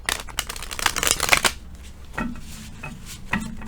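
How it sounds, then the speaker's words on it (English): A deck of tarot cards is riffled and shuffled up close, a dense crackling burst, then a few softer taps and shuffles. "so just gonna give these cards a quick little shuffle."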